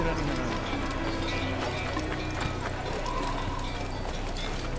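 Hooves of a running horse in the video game Assassin's Creed, a steady clip-clop rhythm running throughout against dense game ambience, with a voice talking over it.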